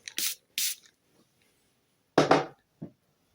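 Two quick, close spray bursts from a perfume bottle, a pause, then a longer spritz followed by a faint short hiss.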